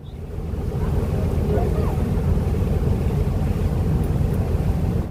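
A motor launch cruises through the Sundarbans waterways, its engine a loud, steady low rumble mixed with wind buffeting and water wash, continuous throughout.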